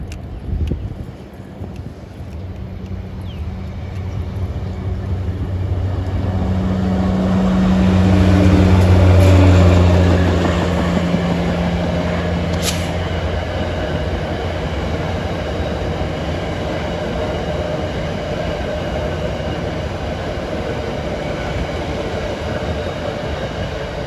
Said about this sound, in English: MP36 is the only kind of diesel engine they have on these trains